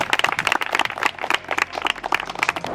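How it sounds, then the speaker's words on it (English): Applause for the elimination players in a reality competition challenge: a scattered group claps for a few seconds, with irregular, close, moderately loud claps and no talking. "give the elimination players a round of applause"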